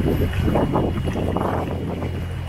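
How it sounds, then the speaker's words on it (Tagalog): Steady, heavy wind roar buffeting the microphone at the Panguil Bay Bridge during a drone flight, a constant low rumble with gusty fluctuations throughout, no voices. "Katakot, ang lakas ng hangin."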